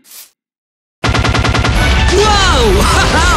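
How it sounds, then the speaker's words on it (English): TNT detonates and blows apart a house in a video game: after about a second of silence a rapid chain of loud, close blasts erupts and rolls on as a dense, continuous rumble. "Now I'll detonate the TNT."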